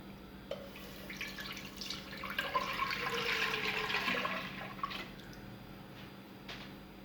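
Four cups of milk pour into a pan on a medium flame, a soft, steady liquid splash rising and fading over several seconds, faint and close.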